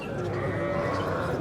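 Sheep bleat in a short burst at a breeding sheep exhibition, a wavering nasal call close by, with faint crowd murmur underneath.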